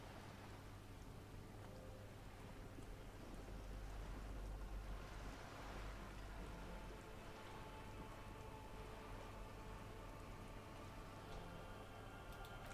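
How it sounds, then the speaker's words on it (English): Steady rain falling on wooden boards and surrounding water in the game Disco Elysium, a dense, continuous patter that stays even and fairly soft throughout. "All around you, rain keeps falling down. On the wooden boards she's standing on, and on the water around you."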